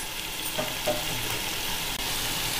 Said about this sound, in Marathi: मसाला एकदम छान प्रकारे फ्राय झाला पाहिजे